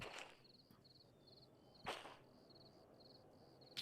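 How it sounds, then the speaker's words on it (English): Crickets chirp at night in the Derail Valley train simulator game, a faint, steady series of short high pulsing trills repeating evenly throughout, with a couple of brief louder noise bursts and no talking. "this time of night. I can hear crickets."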